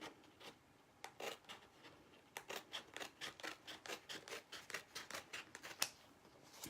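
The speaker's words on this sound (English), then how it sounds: "I'm just going to cut these." Scissors snipping through material in a quick series of short, crisp cuts, close and fairly quiet, with a brief pause before a steady run of rhythmic snips.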